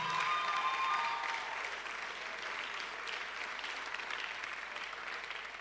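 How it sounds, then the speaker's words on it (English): Steady audience applause at a church conference fills the space, a dense wash of clapping that holds at an even level throughout. "Give her a big round of applause."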